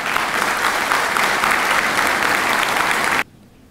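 Loud, steady applause from an audience honouring public accounting students at an accountants' day event, sustained clapping that cuts off abruptly near the end.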